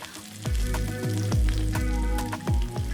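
Hot oil sizzling with sesame seeds, red chili flakes and finely chopped garlic, a close, steady crackling fry with a few louder pops and stirring scrapes.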